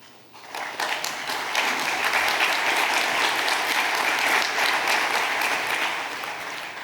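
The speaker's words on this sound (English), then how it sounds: "you have already clapped" A large audience at a religious world assembly opening ceremony breaks into sustained applause, dense and steady, swelling quickly and tapering slightly toward the end.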